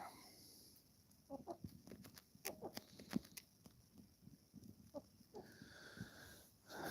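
Chickens that have left their coop peck about on a sunny winter day, giving soft scattered clucks and scratchy rustles, faint and close, with some breathy noise toward the end.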